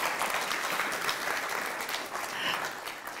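An audience in a church breaks into steady applause, a dense wash of clapping that holds for the whole stretch with no talking over it.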